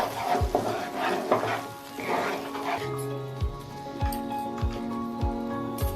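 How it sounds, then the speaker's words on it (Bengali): Curd paste blended with cashews and poppy seeds is stirred in a pan over a low gas flame, with spaced scraping taps and a faint sizzle. Someone talks over the first half; the stirring then continues mostly alone. "গ্যাসের ফ্লেমটা লো রেখে আমি এটা একটু নাড়িয়ে নেব।"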